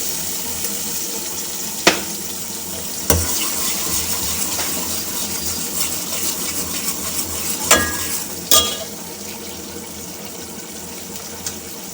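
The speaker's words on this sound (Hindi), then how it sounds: "तो 2 मिनट तक ऑयल के साथ फ्राई करूँगी लहसुन अदरक के पेस्ट को" Garlic-ginger paste fries in oil in a pan for a masala fish curry. A steady close sizzle runs throughout, broken by several sharp spoon clicks and stirring scrapes.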